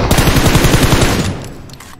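Rapid automatic gunfire in a PUBG Mobile match, a loud close burst of about a dozen evenly spaced shots that stops partway and leaves a fading tail.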